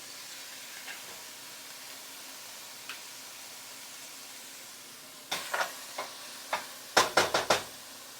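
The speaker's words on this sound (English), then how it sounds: "While our onions are cooking," Onions sizzle in a pan for Swedish meatballs, a soft steady hiss with a few light clicks. Toward the end come sharp clattering knocks from utensils stirring against the pan.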